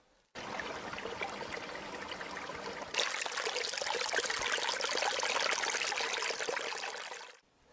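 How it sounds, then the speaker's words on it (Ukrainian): A small mountain stream in a Carpathian forest trickles and gurgles steadily, close and continuous, growing slightly louder and brighter partway through before fading at the end. "Тече, журчить, гарно так, струмочок."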